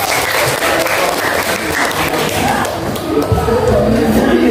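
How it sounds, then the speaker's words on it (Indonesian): A classroom of students applauds after a poem is read aloud, steady loud clapping with some thumps and crowd noise throughout. "Ya udah cukup, tepuk tangan."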